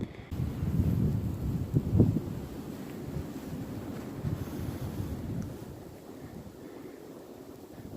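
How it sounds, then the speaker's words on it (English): Wind gusting across a foggy, snowy mountain trail near Springer Mountain, a steady low rumble that swells early and then settles into a softer, continuous rush close to the microphone. "The wind has died down a little bit"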